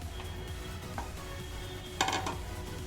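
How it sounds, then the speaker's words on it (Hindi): Potatoes and makhana being stirred in a frying pan for dum aloo, with soft sizzling and scraping of a spoon against the pan, marked by a couple of brief louder clatters; no voices. "अब इसमें हम आलू डालेंगे,"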